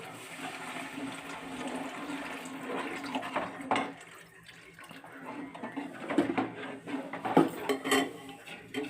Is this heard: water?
yes